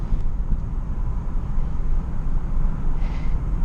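A Vauxhall Corsa engine drones and rises as it accelerates on a B-road, making a strange noise, mixed with heavy rumbling wind buffeting from open windows, loud and constant throughout.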